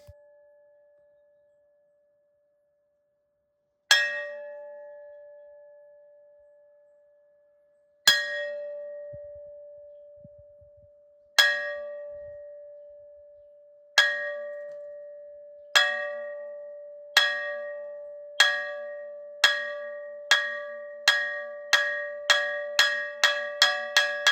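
A metal gong sounded in the morning at a Zen sesshin retreat is struck again and again, each ringing stroke decaying quickly, the hits coming ever faster and varying between stronger and softer blows.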